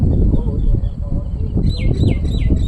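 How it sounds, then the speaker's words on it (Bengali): A common myna chick from the Sundarbans, held in the hand, gives a short run of repeated, falling chirps near the end. The chirps sound over a steady background rumble and noise. "অর্থাৎ একটি শালিকের বাচ্চা।"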